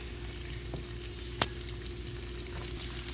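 Asparagus stalks laid out individually cooking in a pan, a soft continuous sizzle with a low steady hum beneath and one sharp click midway, quiet and close, no talk.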